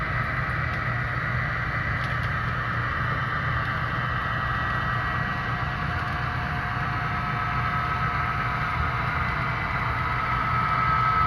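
A model train on Eric Lalonde's layout runs steadily toward a rail yard scene, giving a continuous, even mechanical hum and drone with no break in level throughout.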